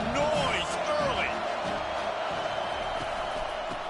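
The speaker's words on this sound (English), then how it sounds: "This crowd bringing the energy and noise early." A college football stadium crowd roars steadily through the whole stretch, a dense wash of cheering and shouting with some whoops early on, loud and continuous under close voices.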